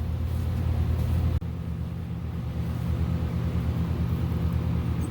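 The engine of a 1979 Fiat Spider 124 runs with a steady low idle rumble, close by, after a sharp click, and continues evenly to the end.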